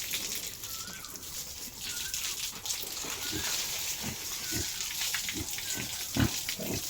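Young pigs in a pen on a pig farm give short, repeated grunts over a dense, constant hiss of farm noise, with a louder grunt near the end.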